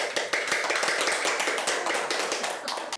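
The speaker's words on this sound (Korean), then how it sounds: "박수로 회의 마무리하겠습니다" Clapping from a large extended family gathered at their mother's home for a holiday, a dense burst of many hands applauding together to close a family meeting, steady and close throughout with no talk over it.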